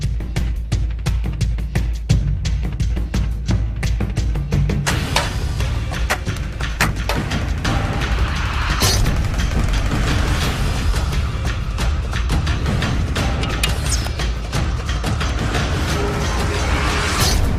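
A crossbow is cranked and fired, giving a long dense run of ratcheting mechanical clicks and creaks with scattered thumps, loud and close throughout.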